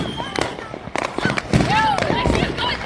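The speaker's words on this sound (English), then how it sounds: "Did you see the footage of the lightning storm going off during the fireworks?" Fireworks bursting in a thunderstorm in Oklahoma, with several sharp pops and crackles spread over a few seconds, loud and close, along with whistling rises and people talking underneath.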